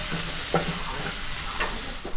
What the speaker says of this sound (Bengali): আমার ভাজা ভাজা হয়ে আসছে